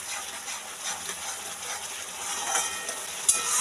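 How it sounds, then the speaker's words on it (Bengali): Spice paste with a little ghee fries on medium heat for a boal fish curry, giving a continuous soft sizzle with light stirring scrapes and a sharp tap near the end, no talk. "এই যে মশলাটা হালকা ভাজা হচ্ছে"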